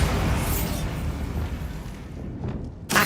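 A Bombarda spell explodes in Hogwarts Legacy, a broad rumbling blast that slowly decays, followed by a sharp burst near the end.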